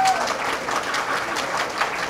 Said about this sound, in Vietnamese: xin quý vị cho một tràng pháo tay cho cả em